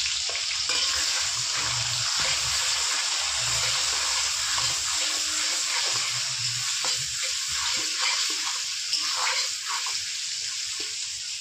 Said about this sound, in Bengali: কিছুটা পরিমাণ পেঁয়াজ আমি ভেজে নেব